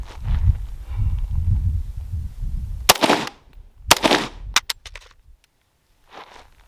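Shots from a Desert Tech MDRX rifle at an outdoor range, several sharp loud reports in a short uneven burst, standing out over low rumbling background noise.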